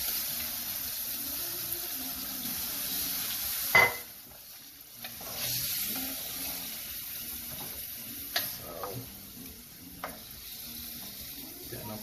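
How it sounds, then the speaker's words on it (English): Onions sauté in a cup of oil in a pan, a soft steady sizzle broken by a few sharp stirring clacks and scrapes of a utensil, close and fairly quiet. "So I'm just gonna saute my onions a little bit."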